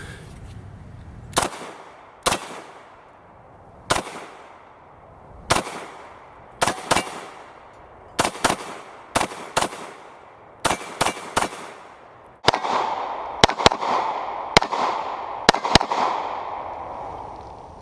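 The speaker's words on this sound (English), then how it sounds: "Really like the way this gun shoots." An FN FNS 40 S&W handgun fired outdoors, about fifteen sharp, loud reports spaced a second or so apart, some in quick pairs, with a faster string near the end.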